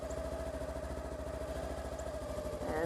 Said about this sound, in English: And you can hear the engine like wanting to go.